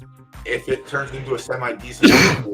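A single loud, sudden sneeze bursts out close to the mic near the end, following a stretch of a man's speech.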